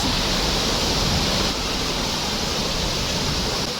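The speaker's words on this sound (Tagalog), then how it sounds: "Yan na yung mother of falls." Ditumabo Mother of Falls waterfall roars as a dense, continuous rush of falling water, loud and close with no break.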